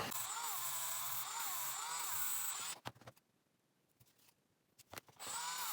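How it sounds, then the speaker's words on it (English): A Dremel rotary tool whirs steadily against EVA craft foam in two close passes, a high tonal whine with wavering pitch, cutting off into near silence in between before starting up again. "I'm going to go in with my Dremel and smooth it out."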